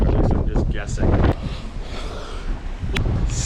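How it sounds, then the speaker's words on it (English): Strong gusts of wind of 25 to 30 knots in a storm at sea on the Atlantic batter the microphone in rough, roaring bursts, with a voice talking intermittently underneath. "We're motoring in or sailing into a storm right now, and ducking it gusts of 25 to 30"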